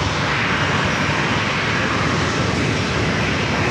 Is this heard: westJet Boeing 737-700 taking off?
yes